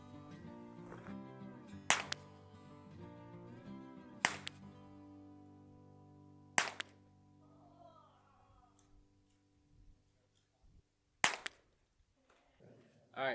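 Ruger Precision .22LR rifle firing at Cheetos taped up as targets on a range, four sharp separate cracks spaced a few seconds apart over quiet outdoor background, with a voice speaking between shots.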